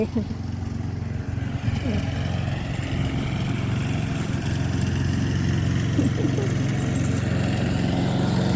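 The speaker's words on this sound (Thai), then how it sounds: "เสียงเครื่องตัดหญ้า" A small engine drones steadily and loudly throughout, a buzzing grass trimmer motor running close by with faint voices underneath.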